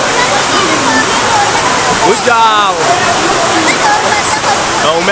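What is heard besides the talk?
heavy rain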